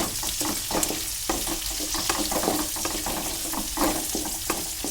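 Small shallots frying in hot oil for a garlic tamarind curry, a steady broadband sizzle with repeated soft scraping and stirring knocks, close and moderately loud, with no voices.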